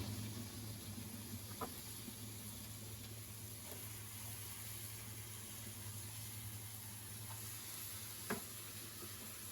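Goat meat with spices frying in a pan, a steady low sizzle with a few faint scrapes of stirring, close and even throughout with no talk.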